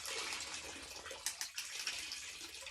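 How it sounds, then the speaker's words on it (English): Moxie mop head twisted by its handle to wring out water, a steady wet rushing and dripping with a few brief squeezes and splashes partway through, close and moderately loud. "And you twist it like this"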